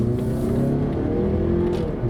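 A car engine revs and accelerates steadily to pass a truck on the road, loud and close, with a low rumbling drone throughout and no talking.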